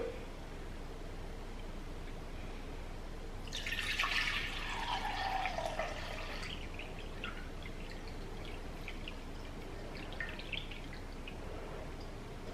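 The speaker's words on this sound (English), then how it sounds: "I'm gonna pour some back in here." Tea or liquid poured back into a container, a splashing, trickling pour rising for about two seconds then settling into faint drips and small liquid sounds, close by and with no talking.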